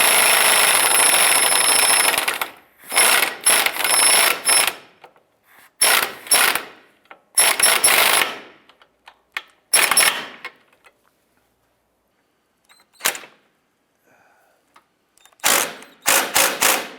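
Ratchet wrench clicking in quick bursts while tightening lower control arm nuts on a 2005-2012 Honda Civic, with short rapid ratcheting runs separated by pauses, close and sharp.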